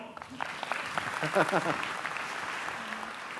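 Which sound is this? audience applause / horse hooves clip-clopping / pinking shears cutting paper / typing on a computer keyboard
audience applause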